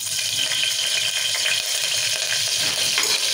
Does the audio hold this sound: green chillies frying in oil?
yes